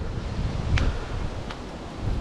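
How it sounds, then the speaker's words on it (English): Blustery wind buffeting the microphone in low rumbling gusts, with a couple of brief faint rustles. "Still windy."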